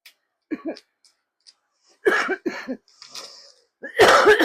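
A few short coughs and throat sounds, separated by quiet gaps, ending in a louder harsh cough close to the mic.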